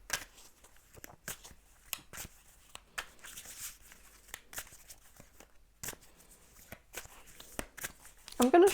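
Tarot cards being shuffled by hand nearby in soft, intermittent riffling bursts with short pauses, light papery flicks throughout and a faint rustle near the end.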